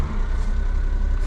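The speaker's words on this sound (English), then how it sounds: "Let's start this up." A Honda kei van, a 5-speed four-wheel-drive Honda Street, runs with a steady, loud low engine rumble, dense and continuous throughout with no pauses or voices.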